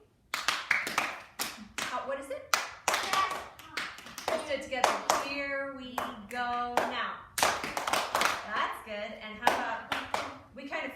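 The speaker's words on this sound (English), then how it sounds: "everybody clap this for me" A third-year teacher's class claps a rhythm together in a classroom, crisp group hand claps in short patterned bursts with pauses between, while the teacher talks over and between the patterns.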